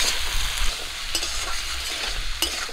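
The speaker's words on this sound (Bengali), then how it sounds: "লবণ আর হলুদ দিয়ে ঝিঙে আলু একটু ভাজা করে নেব।" Ridge gourd and potato pieces frying in a pan with salt and turmeric, a steady sizzle with stirring scrapes and a few sharper clinks of a spatula against the pan, close and continuous.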